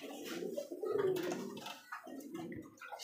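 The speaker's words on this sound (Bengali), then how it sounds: "রাসগোল্লা কবুতর, রেড কালারের মধ্যে দেখছেন" A pair of large red Rasgolla pigeons coo softly at close range, low throaty murmurs rising and falling over a few seconds against a faint background.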